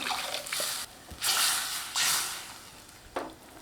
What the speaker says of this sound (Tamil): இது கூட தேவையான அளவுக்கு தண்ணி சேர்த்துக்கலாம்